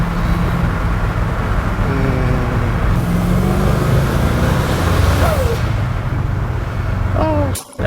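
Custom Ford F-150 sleeper truck pulling hard under acceleration, a loud steady engine roar with rising turbo whine and gear changes, recorded close from inside, with a voice speaking briefly near the end.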